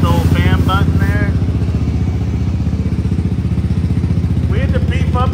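A Honda 400EX engine swapped into a Polaris RZR 170 runs loud and close with a fast, steady thumping idle throughout, while someone talks over it at the start and end.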